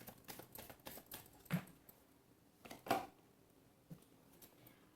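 Tarot cards shuffled softly in a few quiet, uneven flicks and taps, close but faint, with no voice.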